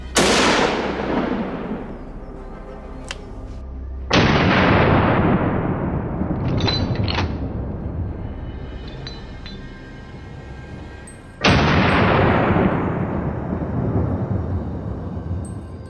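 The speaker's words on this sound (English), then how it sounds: "The gunshot rang out, the boar was hit and fell." Booming gunshots from a hunter's rifle aimed at a wild boar: three loud, sharp blasts spaced several seconds apart, each rolling into a long, fading echo, with no voices.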